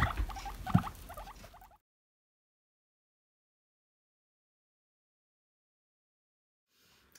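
A guinea pig, excited and popcorning, gives a short burst of low, purring chirrups up close for under two seconds, followed by near silence.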